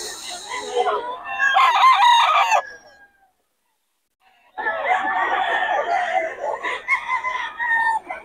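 A yellow-legged hatch rooster crows loudly and close by twice, with a pause of near silence between the calls, at a busy gamefowl market in Bocaue.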